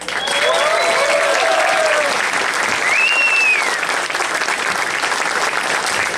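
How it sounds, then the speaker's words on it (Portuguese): Audience applause at a bookstore event at a FNAC store, loud sustained clapping from a crowd filling the whole stretch, with whoops and cheers rising above it. "Uma grande salva de palmas"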